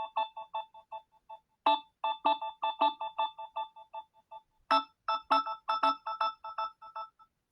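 A Samsung phone plays its Reflection ringtone, a bright melodic series of quick chiming notes in two repeated phrases separated by a short pause, clear and alone.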